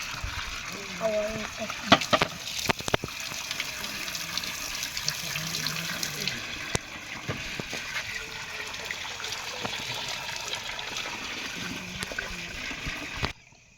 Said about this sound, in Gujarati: તો મિત્રો હવે અમે બટાકા એની ધોઈ નાખો